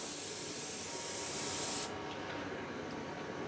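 Airless sprayer spraying dark interior household paint onto MDF, with extraction fans running: a loud, steady close hiss that cuts off abruptly, leaving only a low background rumble.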